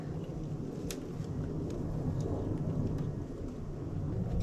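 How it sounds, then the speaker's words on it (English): Steady rain hissing and pattering all around, with a few sharper drips standing out against the constant wash. "Oh, it's a nice rain."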